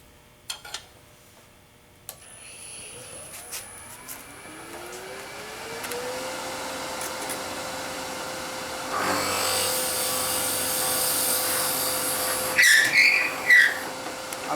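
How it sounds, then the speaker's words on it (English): A 3/4 inch Forstner bit drilling into wood: a few taps, then a motor winding up to a steady whine and a rougher cutting roar near the end. "I'm going to cut that with a 3/4 inch Forstner bit."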